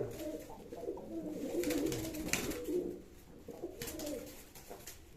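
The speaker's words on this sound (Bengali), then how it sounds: "এই পায়রাগুলো সব দেখছেন" Pigeons in a loft coo in soft, repeated low murmurs, several birds overlapping close by, with faint rustling in the background.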